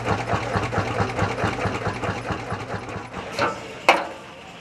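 Vintage Lanz tractor engine running at an oldtimer vehicle meet, a steady low rhythmic thumping beat with regular pulses throughout, fairly close, with a couple of brief sharper knocks near the end.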